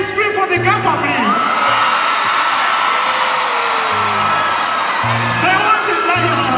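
A large concert crowd of women screams and cheers continuously at a live show, loud and close with a dense sustained roar and a bass-heavy music beat underneath.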